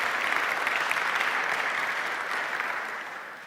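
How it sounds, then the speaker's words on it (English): Brief, steady audience applause at a church gathering announcing a new church plant, dense clapping that holds evenly and then slowly fades. "Let's give Hannah a round of applause and celebrate with her."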